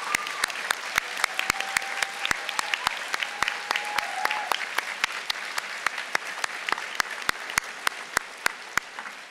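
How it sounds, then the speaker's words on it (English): Audience applause at a college commencement ceremony, a loud, sustained spread of clapping from a seated crowd with sharp individual claps standing out close by, lasting the whole stretch. "big round of applause for all those people."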